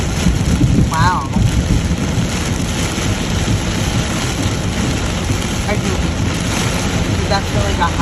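Heavy rain drums steadily on a vehicle driving through a storm, a loud, dense wash of water with wipers running at full speed, and a brief squeaky sweep near the start.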